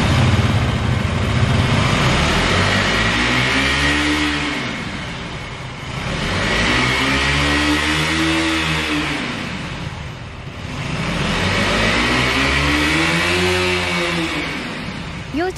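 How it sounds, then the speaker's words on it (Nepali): A KTM Duke 200 motorcycle revs its exhaust three times in long, rising and falling sweeps, each climbing to a loud peak and easing back, close by and steady. "अब हामी ड्युक 200 एक्जस्ट साउन्ड सुन्न जाँदैछौँ।"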